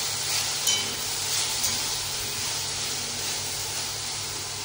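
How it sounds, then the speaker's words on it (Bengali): Kundru (ivy gourd) frying in a pan gives a steady, fairly soft hiss of oil that holds even throughout, with no talking. "এখন কিঁদুরি ভাজা বসিয়েছি।"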